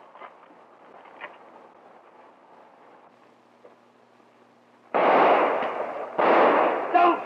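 Two loud gunshot bursts ring out close by near the end, following a stretch of quiet room tone.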